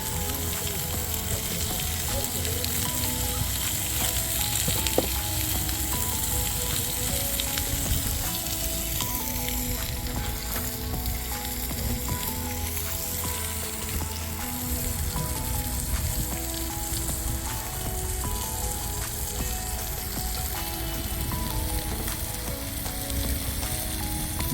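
Steak frying in a pan for an American-style Memorial Day cook, a steady dense sizzle and crackle that continues evenly throughout, close and fairly loud with no talking.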